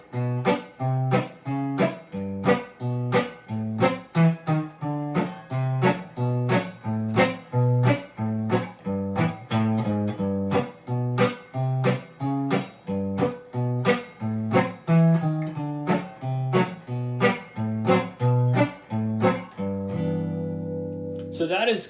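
An electric guitar plays western swing rhythm, with crisp, choppy chord strums landing at a steady, bouncy pulse, each one short and clipped. It ends on a ringing, sustained chord, played alone and close.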